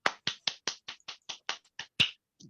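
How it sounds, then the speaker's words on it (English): A single person claps about a dozen times at a steady pace, each crisp clap close and distinct, followed by a short pause and one softer final clap, in a quiet room with no one talking. "And an applause from Professor Niels Moos, which is not every day"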